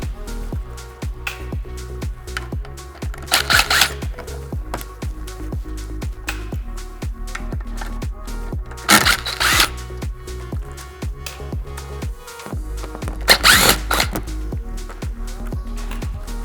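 Plastic trim clips being popped out of the front bumper of a 2020-2024 Chevrolet Corvette C8 with a T15 tool, giving repeated sharp clicks and snaps amid steady close handling noise, with three louder bursts spaced several seconds apart.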